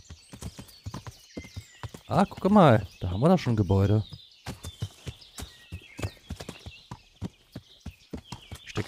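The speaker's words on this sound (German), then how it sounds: "Das Hufgetrappel ist ein bisschen zu laut, wa?" Horse hoofbeats clip-clop at a steady walking rhythm in the medieval game Kingdom Come: Deliverance, with a horse neighing loudly in the middle while someone talks over them.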